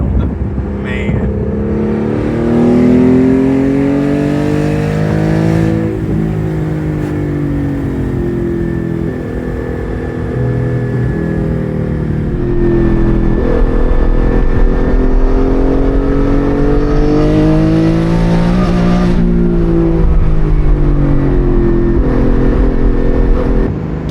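A manual Porsche GT4 with a DeMan-built 4.5-liter flat-six pulls hard through the gears, its engine note climbing and falling in long sweeping revs, loud and close throughout with no talking.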